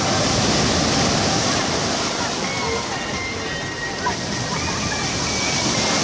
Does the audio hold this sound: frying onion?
no